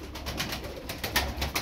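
Close pigeons coo in a loft of Çorum Çıplak birds, a soft, repeated burbling over faint rustling and wing noise.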